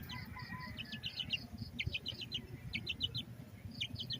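Chirping birds mixed with low clucking chickens around a Peruvian gamecock rooster, steady repeated calls in a busy outdoor pen with no talk.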